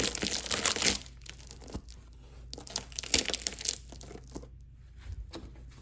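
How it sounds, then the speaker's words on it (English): A mosaic is peeled up off shelf paper covering a design, giving irregular crinkling and tearing bursts, close and fairly quiet, louder at the start and again midway, with no talk. "Now I'm lifting the mosaic off of the shelf paper covered design."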